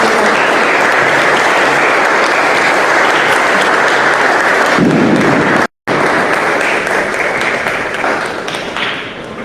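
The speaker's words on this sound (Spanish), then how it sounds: "un fuerte aplauso también para ellos" Loud, dense audience applause fills a forum hall during a discussion on the impacts of the Interoceanic Corridor, with a brief cut-out midway before the clapping resumes and tapers slightly.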